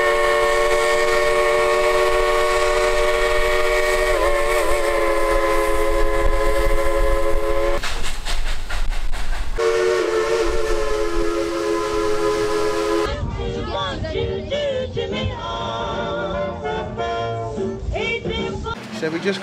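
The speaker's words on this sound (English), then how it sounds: "This is a type 282 steam locomotive." The Dollywood Express, a 2-8-2 steam locomotive at a theme park, sounds its whistle in long loud sustained blasts, then rumbles and clanks along the rails, with passengers' voices faintly mixed in.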